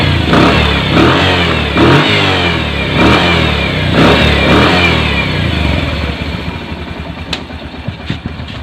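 A Bajaj CT 100 motorcycle engine runs after a full overhaul, loud and close with a smooth, even rhythm and a few throttle blips before settling to a softer idle.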